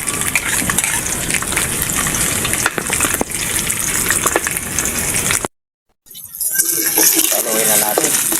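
Garlic, onion and ginger sautéing in a pan for beef-tail humba cooked in Sprite: a loud, dense, continuous sizzle that stops for a brief gap, then resumes slightly softer.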